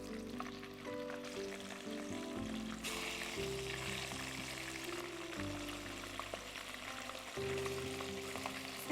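Half-fried chicken pieces going back into hot oil in batches for butter chicken, making a quiet, continuous sizzle and frying hiss over a low steady kitchen hum.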